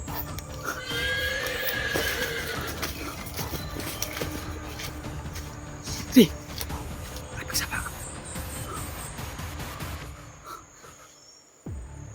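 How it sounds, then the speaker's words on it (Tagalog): A horse whinnies outdoors amid a steady hum of insects, with hoof clip-clops and shifting movement nearby, a sharp neigh standing out midway, and faint human voices in the background. "May busis ng kabayo."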